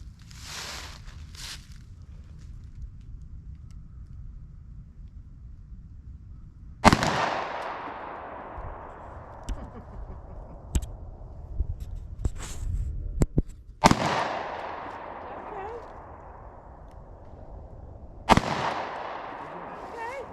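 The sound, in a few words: gunshots from handgun target shooting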